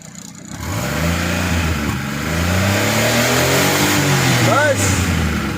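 A Daihatsu Cuore with an HHO kit fitted, its worn engine smoking and burning oil, revs loudly up and down close by while someone talks over the engine.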